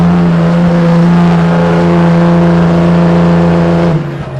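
A Ram 2500 diesel pickup roars under heavy load while dragging a pulling sled at a nighttime truck pull, a loud sustained low drone held steady before easing off near the end.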